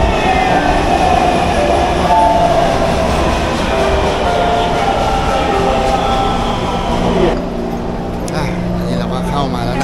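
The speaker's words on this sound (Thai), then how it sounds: "รถไฟขบวนต่อไปก็เข้าสถานีแล้ว" A metro train in Taiwan rumbles loudly and steadily nearby, then the noise drops a little near the end as it comes into the station.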